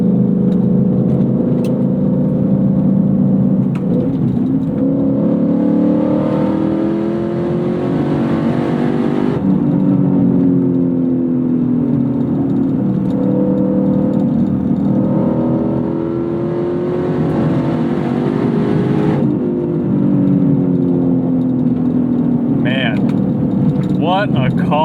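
A track-prepped Lexus IS F sport sedan engine revs repeatedly, rising and falling in pitch through several surges, loud and close, with a voice speaking near the end.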